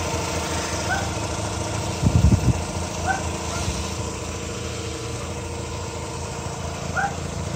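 An R3 car engine with recently replaced coil wire and spark plugs idles steadily nearby, a smooth even hum with a brief louder rumble early on.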